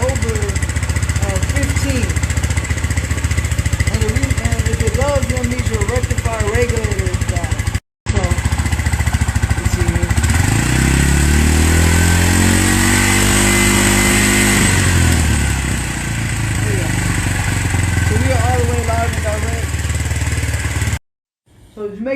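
A Suzuki GZ250 motorcycle engine idling loudly and close, then revved up and back down in a rising and falling sweep, with brief dropouts in the sound.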